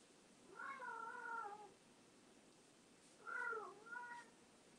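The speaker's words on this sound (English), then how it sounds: "everybody's talkative today in terms of my cats" Domestic cats meowing indoors in a quiet room, two drawn-out meows a couple of seconds apart, the second followed by a shorter one, soft and fairly close.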